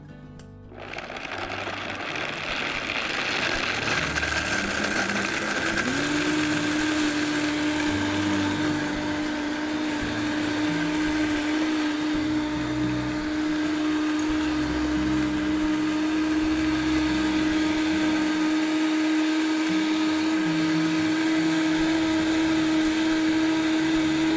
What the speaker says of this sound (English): So it's locked on, and I'm going to blend.